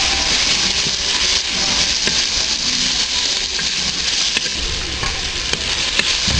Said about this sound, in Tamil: இப்போ தக்காளியை நல்லா வணக்கிறோம்.